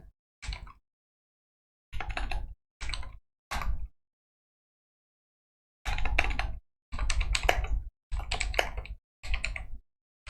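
Bursts of clattering keystrokes on a computer keyboard while code is being typed, coming in short clustered flurries separated by pauses, close and fairly quiet.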